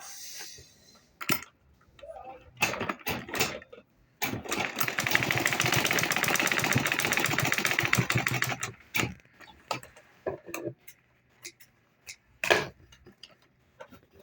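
A sewing machine top stitching a jumbo tote bag, short mechanical bursts and ticks, then a sustained rapid whirring run of several seconds, followed by more brief stitching bursts and clicks, close and fairly loud.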